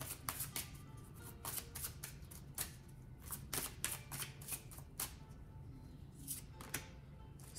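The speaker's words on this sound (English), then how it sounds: "Let's get one card from the sigil oracle." Oracle cards riffle and slide in steady, close shuffling with repeated crisp flicks, then a card is drawn; the sound is fairly quiet and no one speaks.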